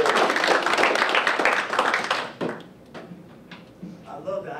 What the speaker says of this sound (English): let's give Drew a warm round of applause